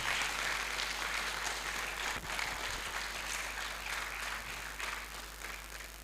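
Audience at a public forum applauding, a broad continuous wash of clapping over a low steady hum, fairly even and slowly tapering toward the end.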